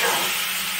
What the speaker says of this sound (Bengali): এবার একটু পেঁয়াজটাকে ফ্রাই করে নিচ্ছে